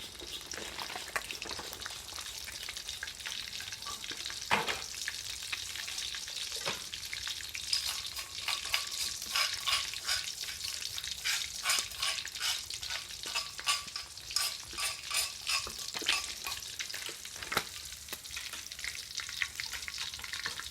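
Short mackerel frying in a pan, steady close crackling sizzle of hot oil with occasional louder pops and stirring scrapes, no talking.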